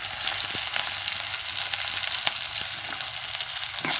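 Onions sautéing in a pan for a Wayanad-style crab roast give a steady, close frying sizzle with a few soft stirring knocks, heard alone without talk.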